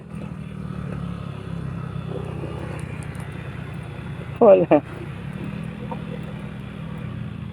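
A motorcycle rides along a road with a steady, close engine rumble throughout, broken by a brief loud clatter of bumps midway; people talk over the ride.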